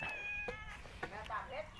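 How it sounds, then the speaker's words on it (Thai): A white cat with diamond eyes meows in short, close calls, several brief cries scattered among people talking over it. "มีแมวแมวตาสีเพชร"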